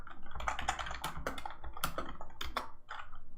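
Rapid, steady typing on a computer keyboard during a Python coding session, dense close key clicks with slightly louder taps mixed in, no voices.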